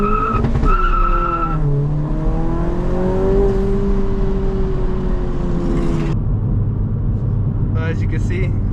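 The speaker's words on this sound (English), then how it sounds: "we're gonna go ahead and try it and get a little clip of it for you guys" Engine revving hard with tire squeal during a launch-control start in a built 2022 Honda Civic Si at night, loud and close from inside the car with the window partly down, rising revs, then squealing tires fading to a rumble.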